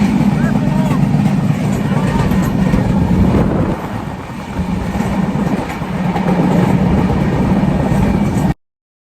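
Steady loud rumble and rattle of a train moving fast in Rangpur, Bangladesh, a continuous roar with a brief dip midway.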